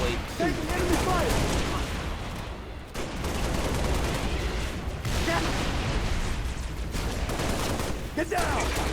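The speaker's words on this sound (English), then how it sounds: "Taking enemy fire." Sustained enemy gunfire in the Halo Reach mission The Package, with dense bursts and booms running nearly the whole time, a brief lull partway through, and voices talking over the battle.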